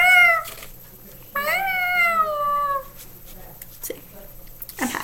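A person imitates a cat, making several drawn-out, rising-then-falling meows one after another, close and loud, ending with a couple of short sharp yelps.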